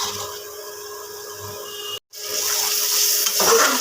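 Masala spice paste for ghugni fries in a pan, a steady sizzling hiss with scraping stirs, broken by a brief moment of silence, then louder frying and a ladle knock near the end.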